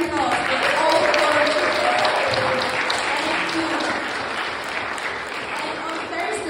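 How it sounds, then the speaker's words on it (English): Sustained audience applause at a London Christian conference, thanking the volunteers, a dense wash of many hands clapping that fills the room at steady loudness from start to finish. "Can we just like give big applause for all the"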